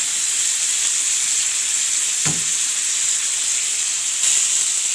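Meat and vegetables sauté in a pan, giving off a loud, continuous sizzle and hiss throughout, broken by a brief clatter of stirring partway through.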